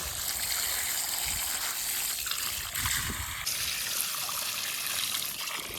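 Water flowing steadily to irrigate coconut trees on a farm, a continuous broadband rushing and trickling stream, close and fairly loud, alone without voices.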